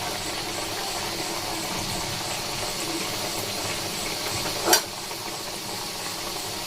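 Gaja sweets frying in oil on a low flame, a steady gentle hiss throughout with one brief sharp clink partway through.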